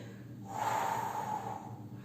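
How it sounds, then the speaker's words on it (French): A single long exhale during a stretching and breathing exercise for posture, a breathy rush of air swelling and then fading over about a second and a half, close and alone with no talk. "Donc inspire et souffle."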